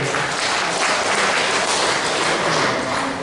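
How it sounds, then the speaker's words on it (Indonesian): An audience at a regional retirees' association meeting applauds a man. Steady, dense clapping fills the whole few seconds, fairly loud and evenly sustained. "Tepuk tangan untuk Bapak."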